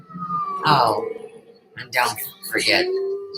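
A woman imitates a siren with her voice, wavering rising and falling wails in a few short bursts, mixed in with casual talk from others nearby.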